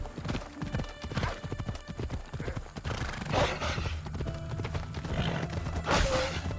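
A sturdy horse's hooves clip-clop in a quick, even rhythm in Assassin's Creed Odyssey, close and clear, with a brief whinny near the end.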